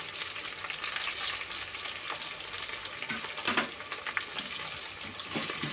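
Onions and dried red chillies sizzle steadily in a pan for a village-style bottle gourd curry, a close, continuous crackle with a few sharper pops and scraping stirs.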